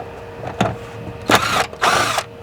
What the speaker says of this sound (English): what you need is a 10mm socket. These come out really easily, just undo those.